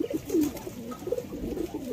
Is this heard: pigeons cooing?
yes